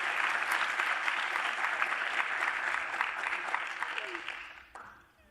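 Audience applauding a panel at a documentary premiere, a dense, sustained roar of clapping that holds steady, then thins and fades out at the end.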